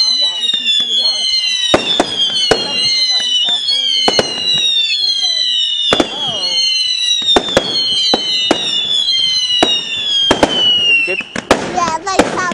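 Bonfire night fireworks bursting in sharp cracks and bangs, with whistling, sputtering crackle trailing between explosions, loud and fairly close, while people talk over them.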